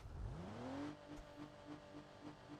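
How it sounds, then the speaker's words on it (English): A V6 car engine in the video game BeamNG revs up sharply, its pitch climbing, then settles into a lower, pulsing idle; fairly quiet overall, no talking. "Listen to this V6, boys."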